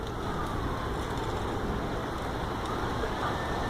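Heavy rain pours down just outside a doorway, a dense, steady hiss with no breaks, and a faint hum of traffic sits low underneath.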